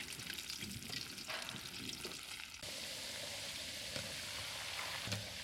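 Pork spare ribs fry in oil until browned, giving a continuous close crackling sizzle with faint stirring noises, fairly quiet and with no talking.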